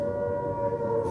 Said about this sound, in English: It's like sirens in the blitz.